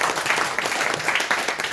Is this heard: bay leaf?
no